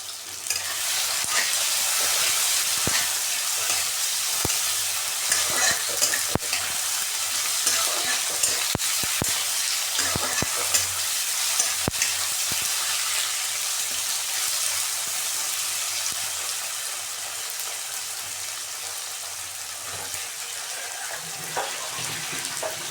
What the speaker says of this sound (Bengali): ওই পেস্টটা ঢেলে দেবো তেলের মধ্যে দিয়ে নাড়াচাড়া করে